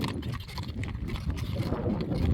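A newly shod horse walks on, its hooves giving soft, irregular clip-clops amid a rumbling, wind-buffeted background.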